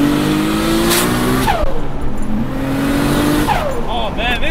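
Nissan R32 Skyline GTR, an all-wheel-drive car rebuilt toward 850 hp, revving hard under acceleration, its engine tone rising and falling through gear changes, loud and close with faint tire squeal.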